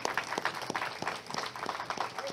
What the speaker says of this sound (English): Another hand clap for the Lord.